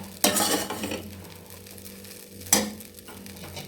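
Ginger garlic paste frying in a pan on a low flame, with a soft steady sizzle and two sharp stirring scrapes of a utensil against the pan.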